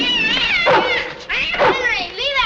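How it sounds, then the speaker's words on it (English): A cat from a 1948 film cries in loud, drawn-out, wavering meows, several yowls in a row, close and insistent with no pauses of silence. "leave that cat alone"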